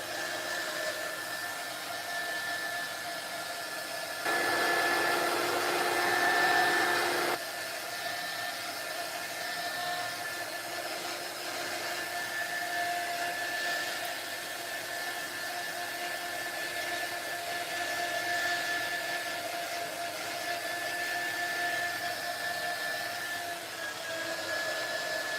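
A hair dryer blows steadily on a craft project, a continuous close whirring hiss with a tonal whine that briefly grows louder and harsher around the fifth to seventh seconds, with no talk.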